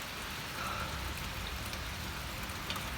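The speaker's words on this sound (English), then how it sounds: "now she's sending hail" Hail falls in April, a dense, steady hiss of pellets striking surfaces with occasional sharper ticks, close and continuous without any talk.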